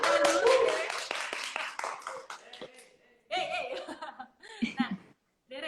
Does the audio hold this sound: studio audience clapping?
yes